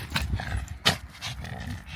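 A puppy at a pumpkin farm gives a short sharp bark, with scuffling and soft huffing sounds before and after.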